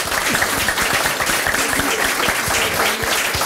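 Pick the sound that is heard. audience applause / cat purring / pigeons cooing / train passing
audience applause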